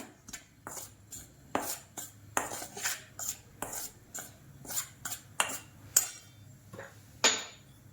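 Ragi shankarpali dough being mixed in a bowl at home, with a spoon or hand knocking and scraping against the bowl in an irregular rhythm of sharp clinks, close and fairly faint, with no talk.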